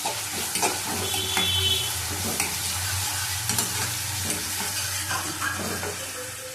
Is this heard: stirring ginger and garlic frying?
yes